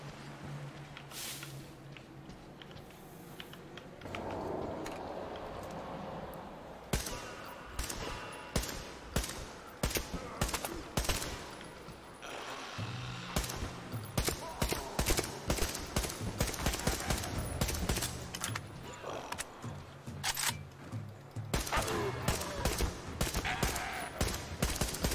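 Sustained gunfire in the video game Metro Exodus: rapid bursts of sharp shots, later broken into steady single reports, with game effects and a distant muddle of other sounds.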